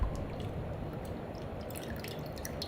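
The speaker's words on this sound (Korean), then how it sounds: "살짝 물기를 빼요." Water dripping and trickling from freshly grated potatoes as they drain, a steady close patter with faint splashes throughout.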